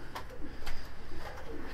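A Miro-line Altuni pigeon coos softly up close, a few low, throaty burbling calls over a quiet loft background.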